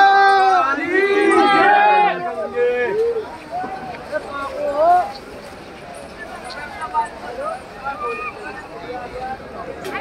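A crowd of pilgrims at Har Ki Pauri in Haridwar just after rain, a busy outdoor murmur of voices and footsteps with hoofbeat-like clatter, under loud nearby talking that fades to a softer babble.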